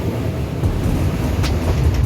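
Meter gauge train running through forest, a steady close rumbling rattle of wheels and carriages with wind buffeting, continuous and loud throughout.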